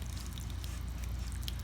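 Water soaking into the soil of freshly repotted aloe plants, a soft continuous pour with light splashes and drips, close and steady, with no voices.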